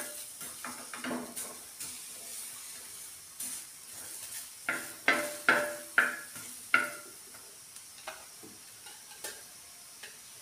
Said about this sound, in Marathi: आता एक कांदा टाकूया. 2 छोटे कट करून घेतलेले. ह्याला पण व्यवस्थित परतून घेऊया.